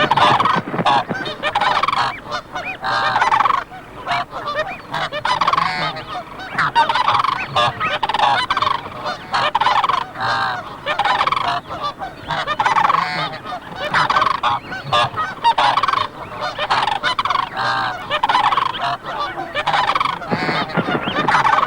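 Snow geese honk loudly and continuously while battling cranes over territory, a dense, overlapping chorus of calls with no pauses throughout.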